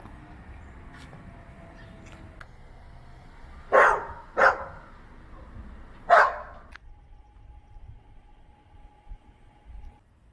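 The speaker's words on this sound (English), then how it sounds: "Well-met cafe with two dogs about to meet." A few sharp, fairly loud dog barks outside a neighborhood cafe, three distinct yaps spaced over several seconds against a low hum of street ambience.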